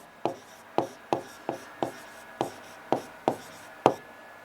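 A pen writing an answer on paper, making nine crisp scratchy strokes at an uneven pace, close and quiet, with no talking.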